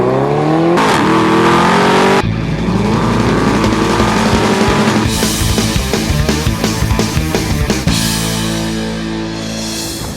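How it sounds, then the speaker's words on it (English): A Mercedes-Benz SLS AMG GT engine revs hard and loud, its exhaust note rising and falling through repeated throttle blips, close and continuous with no talking. "You got that exhaust note tearing through your ears."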